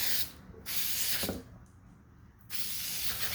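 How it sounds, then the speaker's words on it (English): A steady aerosol spray of air filter oil onto a Yamaha YZ250X dirt bike air filter hisses in two long bursts separated by a quieter pause, close and fairly loud, with no talking. "And then you're going to spray everywhere."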